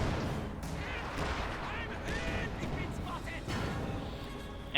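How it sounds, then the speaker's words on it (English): Artillery and howitzer fire in Company of Heroes 2, a continuous barrage of distant booms and gunfire crackle under a commentator's voice. "Lots of artillery fire there from the American side."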